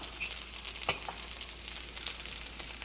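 Beaten egg sizzling and frying in a well of chicken fried rice in a hot pan, a steady close crackle with a few soft clinks of a utensil.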